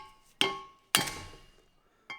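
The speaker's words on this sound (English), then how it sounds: "So I'll just give that a little tap with a hammer" A hammer taps on valve collets in the cylinder head of a 1996 Honda CB750 F2 engine during a top-end rebuild: three crisp metallic knocks, close and ringing briefly, spaced apart in a quiet workshop.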